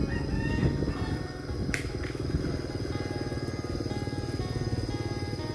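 A motorcycle rides through a village in Xepon on a morning, its engine buzzing steadily at close range, with a rooster and other village sounds around it.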